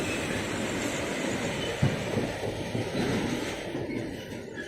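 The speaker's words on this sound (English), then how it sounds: "It's switching the track." The Rani Chennamma Express, hauled by a WAP7 electric locomotive, departs Hubballi and crosses onto another track, giving a loud, close, continuous rumble of wheels and rolling coaches with faint rhythmic clatter.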